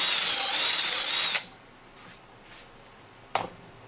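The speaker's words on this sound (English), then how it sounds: "Drill the center of this hole out." Power drill boring out the center of a screw hole in a drill press table, a loud high whine for about a second and a half that cuts off, followed by quiet and a short sharp tap.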